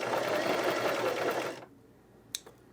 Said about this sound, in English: I'm gonna sew the buttonhole closed with the machine as well. I'm just gonna use a zigzag stitch